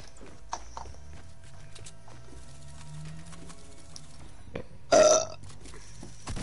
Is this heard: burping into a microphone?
yes